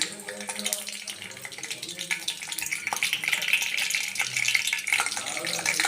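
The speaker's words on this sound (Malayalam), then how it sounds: "കടുക് പൊട്ടുകയാണ്" Mustard seeds splutter and pop in hot oil in a pan while a mulberry pickle is made: dense, rapid crackling that grows louder and busier over several seconds, close up and with no talking.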